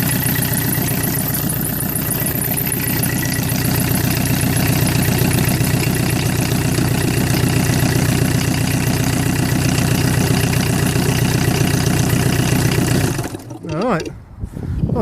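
A Peugeot 306 Estate diesel engine idles with its cam cover off, giving a steady, loud, close clatter with an even rhythmic knock for most of the stretch before cutting out near the end.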